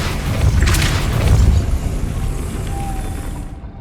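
A Depulso spell blast in Hogwarts Legacy, a loud low boom with a burst of crackle that rolls on and fades out over a few seconds.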